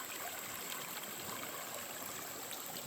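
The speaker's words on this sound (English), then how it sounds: "Pretty creek, pretty creek." A creek running near Stiles Falls in Floyd County, Virginia, swollen after rain, gives a steady, soft broadband wash of flowing water with no break and no voices.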